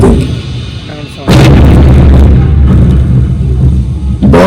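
Cannon artillery booms in the Amber Fort light-and-sound show, a heavy blast that hits loud and close after a moment of quiet, rumbling on with scattered echoes and another burst starting right at the end.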